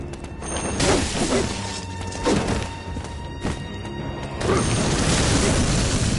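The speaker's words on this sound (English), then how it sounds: "you're gonna flamethrower me" Flamethrower attack in the video game Bloodborne, a dense roaring whoosh with repeated thumps and crashing bursts, loud and continuous, swelling near the end.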